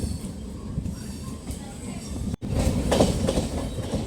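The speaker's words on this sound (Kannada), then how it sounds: "ಡಿಪಾರ್ಚರ್ ಆಗ್ತಾಯಿದೆ ಬೆಂಗಳೂರು ಈಸ್ಟಿಂದ." A MEMU passenger train pulls out of Bengaluru East station, its steady low rumble and rail noise filling the clip, briefly cutting out midway before returning louder as the carriages gather speed.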